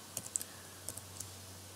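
Light typing on a computer keyboard: a handful of quiet, crisp key clicks in two short bursts over a low steady hum, with no talk.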